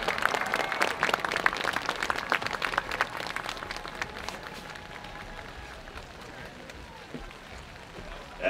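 A concert audience applauds warmly for Cedarburg's second-place Class AAA finish, loud dense clapping and crowd noise that gradually thins and fades toward the end.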